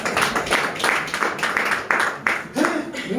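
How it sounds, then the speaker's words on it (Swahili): A church crowd at a sermon claps together for the Lord, a steady run of roughly rhythmic claps that fills the whole moment with no voices over it. "Situ tupigie Bwana makofi"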